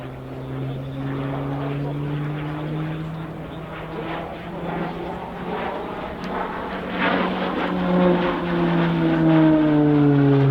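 A Slovenian Army Pilatus PC-9M turboprop performs a flying display at an air show, its propeller drone steady and rising in pitch as it passes, with a commentator talking over it throughout.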